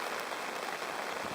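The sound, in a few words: all-day rain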